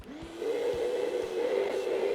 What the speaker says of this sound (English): I then can take my vacuum and suck that glue into the seam